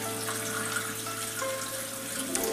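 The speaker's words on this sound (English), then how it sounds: "rinse it under some cold water while you're doing this" Cold water runs steadily from a kitchen tap as a snow crab shell is rinsed beneath it, a continuous close hiss and splash that holds level throughout.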